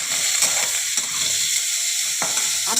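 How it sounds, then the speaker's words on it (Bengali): Brinjal pieces fry in hot oil with turmeric and salt, a steady close sizzle broken by a few scraping strokes of a spatula in the pan. "আমি বেগুনগুলোকে আগে ভেজে তুলে নেব।"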